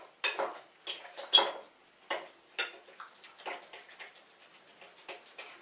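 Ingredients stirred in a bowl with a fork, giving a run of light clinking scrapes and taps of metal on the dish at an uneven, brisk rhythm, close and fairly quiet with no voices.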